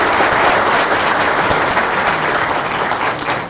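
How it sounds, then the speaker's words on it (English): Loud, dense applause fills a room at a multidisciplinary medical case conference on obesity, many hands clapping together in an unbroken wash of sound that holds steady for the whole stretch. "Please, a round of applause."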